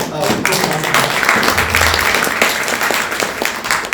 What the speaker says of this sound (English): so a big round of applause to